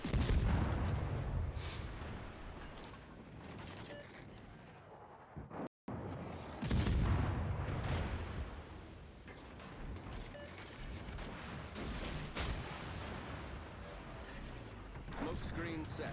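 Naval artillery in the World of Warships video game rumbles in dense, continuous booms and blasts with mechanical clatter, loud throughout, with a brief drop near the middle and voices talking over the battle noise.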